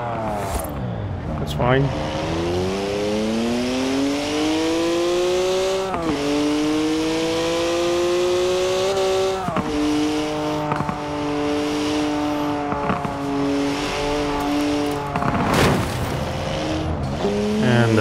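A 2011 Koenigsegg Agera's engine in Forza Horizon 4, loud and close, its revs climbing in long sweeps with sharp drops at gear changes, while someone speaks briefly over it.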